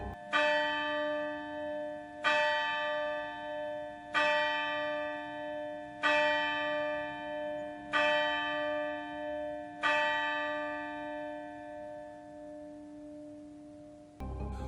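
Church bells strike midnight, six resonant tolls spaced about two seconds apart, each ringing out and decaying into the next, heard alone with no voices.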